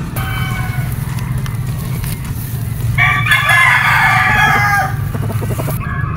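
Harold Brown gamefowl roosters crow loudly on a game farm, one long crow rising and holding over a steady low hum, with other birds faintly calling around it.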